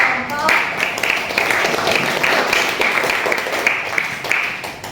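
Classroom applause from high school students after a group presentation, a steady patter of many hands clapping for about five seconds at moderate level.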